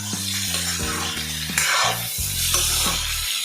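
Mango pickle stirred in a hot pan, with a steady sizzle and a spoon scraping and clattering against the pan throughout, loud and close with no voices.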